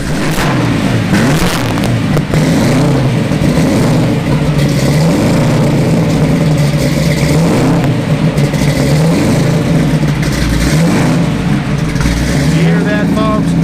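A heavily modified car engine starting from cold, with about $100,000 in modifications, running loud and rough with a steady lumpy idle and occasional revs, close up, with people talking over it.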